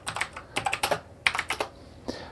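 Quick bursts of keystrokes on a computer keyboard, close and fairly quiet, tapping in two short clusters with a pause between and a final single key press.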